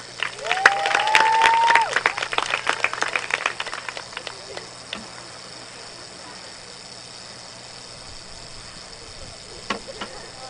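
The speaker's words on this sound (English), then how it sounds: "Let's give one more round of applause for our 3 seniors and their families for all their contributions to the program." Crowd applause for senior players at a high school girls' lacrosse game, St. Andrew's Highlanders against Cedar Park, outdoors. The clapping is loud and dense for the first two seconds, then fades over several seconds into faint scattered claps and background noise.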